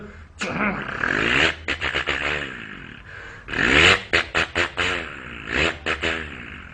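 A voice imitates a tractor engine with loud, close, rhythmic chugging pulses and rough throaty bursts that repeat in quick series.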